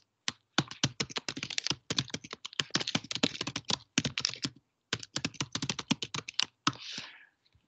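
Typing on a computer keyboard: rapid, close keystrokes in quick irregular runs, with a few brief pauses and a final softer burst, no voices.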